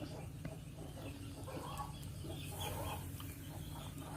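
Chickens cluck softly in the background during outdoor cooking of snakehead fish curry with sour bamboo shoots, a steady low murmur of farmyard fowl that continues throughout.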